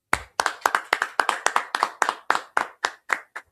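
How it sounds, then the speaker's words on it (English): A class claps together in a steady rhythm of about fifteen sharp, close hand claps over three and a half seconds, loud and distinct, with no voices. "Let's go ahead and clap it up."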